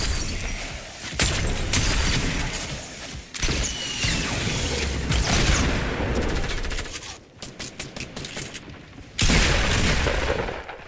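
Heavy gunfire in the Fortnite video game, sustained rapid bursts and fusillades with booming impacts and shattering, loud and near, broken by short pauses between volleys.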